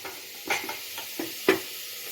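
Coarsely ground paste dry-sautéed in a pan without oil, a low hiss under three or four brief scraping stirs of a spoon, close and fairly quiet.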